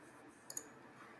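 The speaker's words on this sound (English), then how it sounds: "Look I can hear him clicking." Two quick, faint computer mouse clicks close together while someone searches on Google, over a quiet room hiss.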